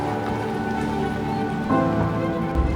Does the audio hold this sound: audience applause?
no